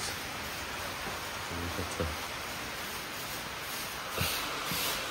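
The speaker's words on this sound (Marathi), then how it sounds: "पाऊस आता पाऊस वाढलाय बघा. भयानक पाऊस चालू झालाय अचानकच." Dense, steady hiss of heavy, sudden rain, constant throughout, with a few faint thumps and bumps underneath.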